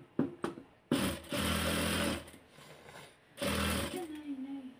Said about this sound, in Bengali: এখন আমি চতুর সাইড দিয়ে সেলাই দিয়ে দিব।